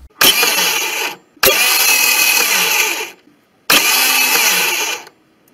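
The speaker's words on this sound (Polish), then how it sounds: "Jeśli macie takie oto dźwięki podczas odpalania silnika" A 4-stroke 139QMB scooter engine's electric starter cranks in three separate bursts, each a loud, close, rough whirring that stops abruptly, with short silent gaps between; the engine does not catch.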